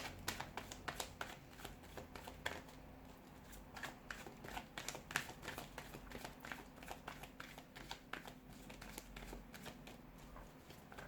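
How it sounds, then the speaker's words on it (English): Tarot cards are shuffled by hand close up, a quiet run of rapid riffling flutters and soft slaps repeating at an uneven rhythm, with no talking. "let's go ahead and give the cards a shuffle"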